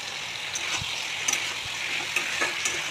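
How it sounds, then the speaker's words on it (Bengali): Fried eggplant and potato being stirred into spices in a pan, a continuous bright sizzle with light scraping and occasional soft clinks of the spoon, with no voice. "এখন ভেজে রাখা বেগুনগুলো দিয়ে দেবো একসাথে।"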